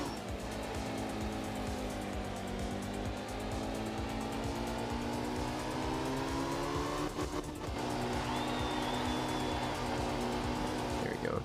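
Porsche rally car in the racing game Art of Rally, engine droning steadily throughout with tire squeal and sliding noise as the back end skids, a brief dip near the middle before the loud engine tone resumes.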